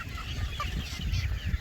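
Hens of many colours cluck and honk briefly close by in a short, uneven burst of fowl calls.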